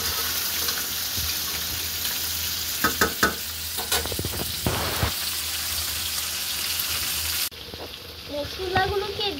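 Crabs hit a hot pan of garlic and cumin paste with kala bhuna spice, bringing a loud, steady sizzle with bursts of stirring and scraping, then a quieter bubbling fry.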